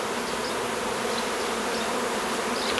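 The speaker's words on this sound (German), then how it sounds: "Naja, scheinen recht gute Bienen zu sein." A colony of Carniolan honeybees being moved out of a tree trunk hums in a dense, steady, close drone that fills the whole stretch with no voices.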